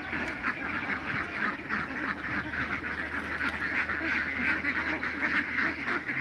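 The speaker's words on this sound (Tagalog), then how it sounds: "Itik mo yan kay tatay." A flock of ducks quacking steadily outdoors near rice paddies, a dense continuous chorus of overlapping calls at close to moderate distance.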